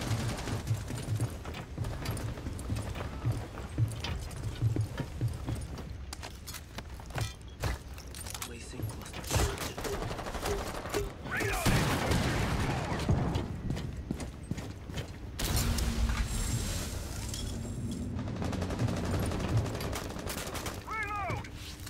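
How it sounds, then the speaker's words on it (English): Gunfire in Rainbow Six Siege as rounds are shot out through windows, a dense, loud stretch of rapid shots and breaking clatter running through the clip, with a voice talking over it. "they're shooting out the windows"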